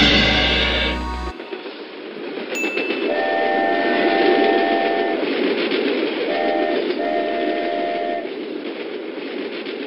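A train rumbles past at close range with a steady heavy roll, and two or three sustained horn blasts sound over the noise before it fades slightly.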